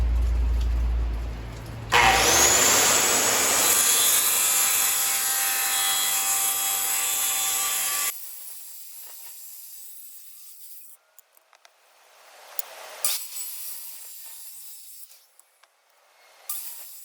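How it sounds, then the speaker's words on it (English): A power saw cuts into a thick reclaimed wooden leg for a surfboard shaping stand, giving a loud whining, grinding cut that stops abruptly and is followed by quieter scattered knocks and handling. "I have to cut off a bit off each side and then finish it with a handsaw"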